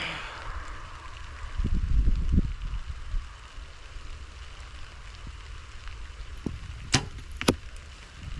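A hunting arrow is shot from a bow in steady rain, with a low thump of the release and then two sharp cracks of impact later on, all over a constant hiss of rain.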